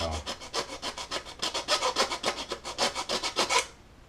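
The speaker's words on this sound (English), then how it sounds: "use a file like this to make sure I have a nice crisp 90" A hand file worked along the edge of a model kit part to square it, with about twenty quick rhythmic rasping strokes close up, evenly paced and then stopping.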